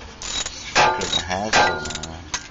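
Rear wheel of a car spun by hand with the drive propeller shaft and rear differential refitted, giving a close mechanical whirring with rattly, ratchet-like clicks and a couple of louder surges over about two and a half seconds.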